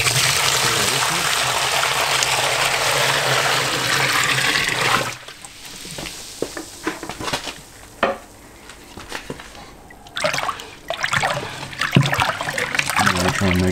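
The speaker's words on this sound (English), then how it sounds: "So just pour our water in here." Water pours steadily into a garbage bin being filled to make a hide-tanning solution, a loud continuous gush for about five seconds, followed by quieter splashing and stirring sounds.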